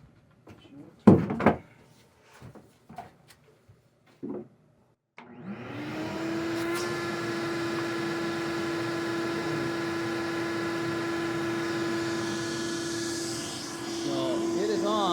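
A Craftsman 6.5 horsepower 16-gallon shop vac powered from a Jackery Explorer 1000 starts after some brief knocks and handling noises, then runs with a loud, steady whine and roar that holds to the end.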